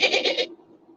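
A human voice imitating a dolphin comes out as a goat-like bleat: a short burst of three or four wavering cries, near and fairly loud, then fading into quiet room noise.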